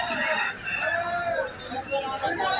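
Chickens at a wholesale poultry market in Rayer Bazar, Dhaka crow and cluck in a dense, busy chorus, with several birds calling over one another amid faint market voices.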